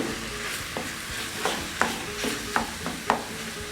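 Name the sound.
browning mince with spices, onions and garlic in pan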